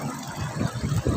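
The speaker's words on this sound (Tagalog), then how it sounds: "malakas pala tubig dito." Strong, steady rush of water at a waterfall with cottages nearby, a continuous low churning roar heard up close with no voices.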